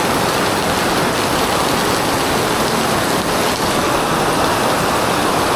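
Heavy rain pours down steadily at Universal Studios Singapore, a dense, loud, unbroken hiss of water on surfaces with no letup.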